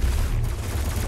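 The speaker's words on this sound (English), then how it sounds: "Who's shooting me now?" Enemy gunfire in Doom Eternal: a loud, dense burst of rapid shots with heavy low rumble, close and continuous for about a second.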